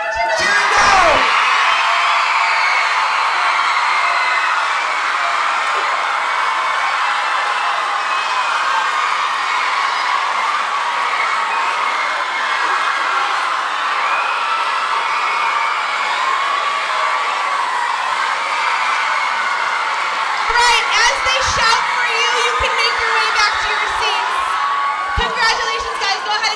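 Children cheering and whooping together at a Junior Thespian district theatre closing ceremony, a loud sustained crowd roar of young voices with shouts and yells, swelling with a burst of claps and thumps near the end.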